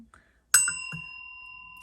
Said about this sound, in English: I'm going to go ahead and ring the bell for some additional good juju